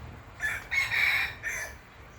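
A rooster crows once, a drawn-out call in a few segments, heard from a moderate distance against quiet background.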